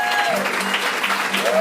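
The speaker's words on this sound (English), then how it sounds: "Yes, give her a round of applause." A short, steady burst of audience clapping and cheering after a singer's live song performance, filling the whole moment.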